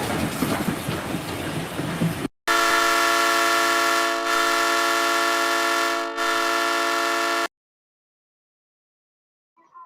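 Sustained blaring train horn with a steady chord, loud and alone for several seconds with brief dips, preceded by a short burst of rumbling rail noise and followed by silence.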